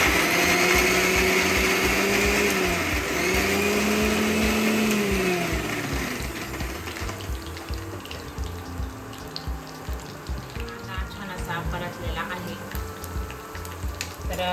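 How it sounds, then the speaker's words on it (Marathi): A mixer grinder whirs loudly as it grinds coconut, ginger and garlic into a paste, with a steady motor drone for about six seconds, then shifts to a lower, rougher churning that continues to the end. "आणि एक इंच आलं घेतलं आहे आणि लसूण यामध्येच आपण दळून घेणार आहेत आणि हे खोबरं तर छान अशी पेस्ट करून घ्यायची"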